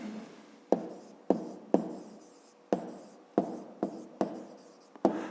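A pen or pencil writes an answer on paper in short scratchy strokes, about eight distinct taps and scribbles spaced irregularly, close and quiet with no talk.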